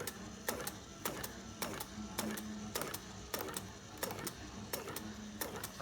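A motor-driven cam and follower mechanism inside a box clicks in a steady, regular rhythm of sharp mechanical taps over a low continuous hum, quiet and close.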